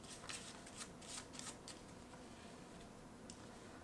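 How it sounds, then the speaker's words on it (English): A deck of playing cards shuffled by hand for a card trick, a faint, quick riffling flutter in short bursts against a quiet background. "I'll shuffle the deck myself."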